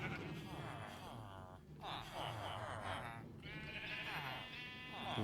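Sheep on a Minecraft sheep farm bleat in several wavering calls, moderately close and overlapping, with faint speech underneath.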